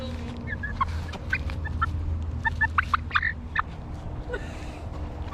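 Chickens on a chicken farm cluck and chatter in a busy flock, with repeated short, sharp calls scattered over a steady low background hum.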